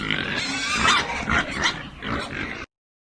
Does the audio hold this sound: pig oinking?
yes